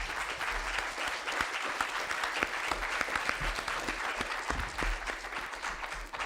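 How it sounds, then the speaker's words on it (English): A symposium audience gives sustained, even applause for the speakers and moderators, many hands clapping steadily at moderate distance with no voices standing out. "would you please join me to give a round of applause to our speakers and moderators?"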